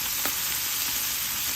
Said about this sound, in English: Let the meat brown for a while